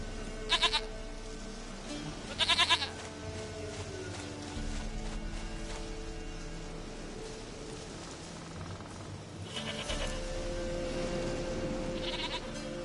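Short goat bleats from a video game come in separate bursts near the start and again later, set against a soft steady game ambience with no talking.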